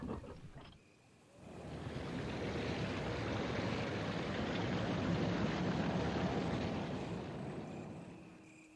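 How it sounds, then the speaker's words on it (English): Waterfall in Resident Evil 1 HD, a steady broadband rush of falling water that swells up after a brief lull and holds for several seconds, loud and close, with no talking. "Sound of the waterfall"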